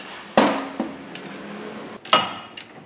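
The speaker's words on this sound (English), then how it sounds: "we're going to see if we can't loosen up the bottom bolt" A ratchet wrench works on the bottom strut bolt of a car during a wheel alignment, giving two sharp metallic clanks about two seconds apart with faint ringing between them, close and loud, no talk.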